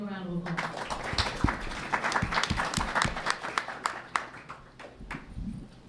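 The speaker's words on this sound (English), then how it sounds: "Give a round of applause." An audience claps for a panel at a blockchain event. The applause is a dense patter of claps, steady at first and thinning toward the end, with voices murmuring underneath.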